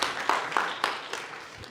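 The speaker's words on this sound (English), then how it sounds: "Can we have a big round of applause for our 5 volunteers today?" Audience at a university programming lecture applauds the five volunteers, a broad steady patter of many hands clapping in a hall, moderately loud at first and thinning slightly toward the end.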